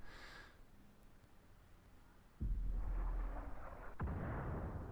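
Artillery shell from a 105 leFH18B2 howitzer in World of Tanks, a quiet hum broken by a sudden loud boom and rumbling tail, then a sharp crack and a further blast about a second later, with no talking.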